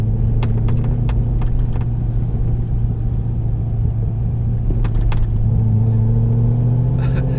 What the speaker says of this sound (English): All that stuff you're hearing is the roof freaking creaking.